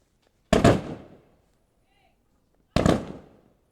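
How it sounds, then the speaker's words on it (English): Rifles fire in unison as a three-rifle volley for a 21-gun salute at a Corpus Christi police officer's memorial service. Two loud, sharp outdoor cracks about two seconds apart each ring out and decay, with quiet in between. "The 3-rifle volley in remembrance of fallen Corpus Christi police officer Kyle Hicks."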